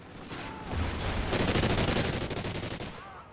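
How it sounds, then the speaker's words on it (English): Shotgun and other gunfire in the online shooter Call of Duty: Ghosts, a dense burst of rapid shots building to a loud sustained volley before it cuts off. "Oh, please stop using a shotgun."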